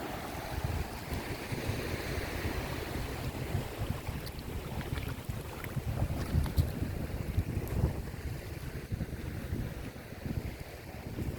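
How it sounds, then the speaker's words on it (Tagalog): Strong wind buffets the microphone in a constant low roar, with waves washing in the background; no voices. "Ang sarap ng hangin."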